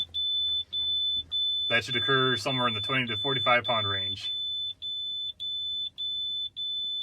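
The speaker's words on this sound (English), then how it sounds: "The alarms are working properly." A truck's low air pressure alarm beeps in a steady high-pitched pulsing pattern during brake pumping in a pre-trip inspection, continuing under a man's speech and then alone.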